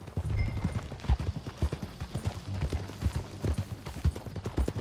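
Horse hooves clip-clop steadily on the ground in Red Dead Redemption 2, a rhythmic walking gait, fairly close and moderately loud, with faint game ambience underneath.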